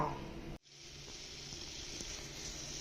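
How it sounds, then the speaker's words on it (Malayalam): A soft, continuous frying sizzle of masala for chicken curry in a pan after a brief dip at the start, quiet and steady with faint crackles. "അപ്പം ഞാനിതൊന്ന് വറക്കാൻ ഇട്ടിട്ടുണ്ട്"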